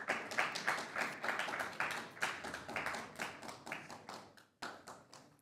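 Foley artists clap their hands in a live sound-effects workshop, producing a steady run of crisp, close claps and taps of varying strength, fading slightly before a short pause and resuming.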